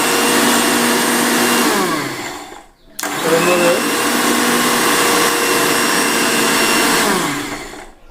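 A kitchen mixer grinder whirs loudly through grated coconut in two long bursts, each winding down before a brief silence and a fresh start, close and dominant.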